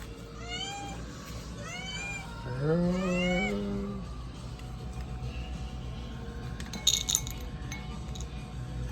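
A cat begging for treats gives several rising and falling meows in a row, close and clear, followed by a brief clink and jangle near the end.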